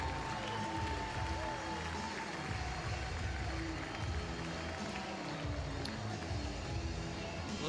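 Steady crowd noise and scattered clapping from spectators at an LSU baseball game, a broad continuous roar with a faint announcer voice underneath.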